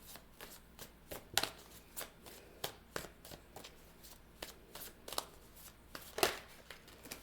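Tarot cards are handled and drawn from a deck, making soft, close slaps and riffling flicks at an irregular pace. There is one sharper card snap near the start and another near the end.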